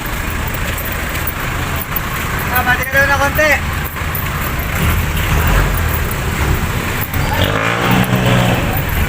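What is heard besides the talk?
jeepneys bound for Santa Cruz passing on the road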